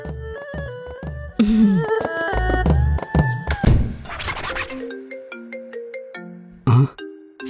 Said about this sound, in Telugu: ఫోన్ కస్టమర్ అయి ఉంటాడు,